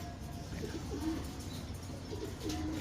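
A hungry pet pigeon feeding, with soft coos and faint chirps over low background rumble, quiet and close, with no talking.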